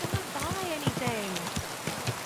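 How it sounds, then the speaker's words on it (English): Rain pattering steadily in Kingdom Come Deliverance 2, a soft continuous hiss of drops on surfaces running under a voice that talks throughout. "Fucking rain."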